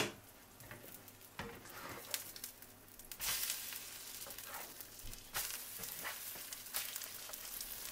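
Okra omelettes fry over low heat in a lidded pan, a faint continuous sizzle and crackle with scattered sharper pops and a few louder bursts of spattering.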